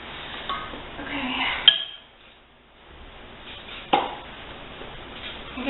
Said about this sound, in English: That was a cup that broke because I wasn't paying attention.